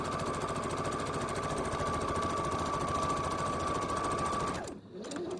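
A sewing machine stitches a quarter-inch seam on a half-square triangle quilt piece, running as a steady, loud, fast mechanical whir for several seconds before stopping abruptly near the end.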